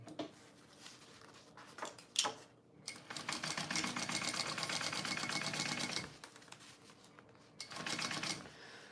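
A sewing machine stitches a pocket on a small bowler bag, running in a fast, even mechanical whir for several seconds, stopping, then starting again, with a few clicks and handling noises between runs.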